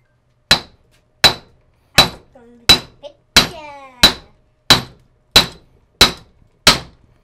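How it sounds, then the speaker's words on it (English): Ten sharp, ringing hammer strikes spaced evenly about two-thirds of a second apart, knocking out a U-joint from a Jeep Wrangler TJ front driveshaft, close and loud with metallic clinks and a brief rattle between blows. "now we're going to hammer on this, and that's going to come out, right?"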